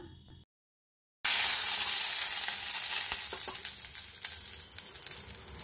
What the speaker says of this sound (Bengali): দিয়ে দিলাম কালো জিরে ফোড়ন, আর একটু দেব হিং ফোড়ন দিয়ে দিলাম।